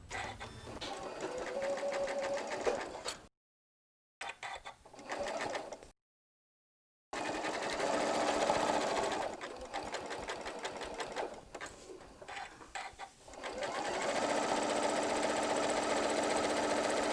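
A sewing machine runs a zigzag stitch on an apron in long steady stretches of rapid mechanical chatter, stopping briefly twice before resuming, close and continuous.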